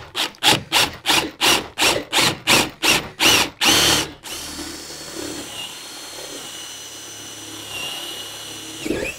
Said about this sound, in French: et je vais venir percer ici